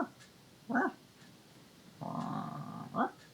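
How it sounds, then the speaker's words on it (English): A dog gives a few small, short barks close by, separated by pauses, with a growling whine between them. "just little barks, just enough for me to have to say something"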